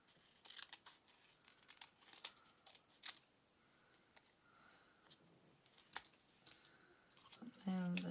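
Scissors snip through paper for a scrapbook layout in a series of quiet, irregular cuts and crinkles, with soft rustling between snips and a louder thump near the end.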